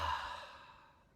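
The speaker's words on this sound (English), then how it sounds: "exhale," A single soft exhaled breath, close and quiet, fading out over about a second.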